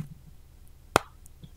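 A single flat slap of a hand on a bullet journal, imitating a snare drum, a short sharp papery smack heard close and alone.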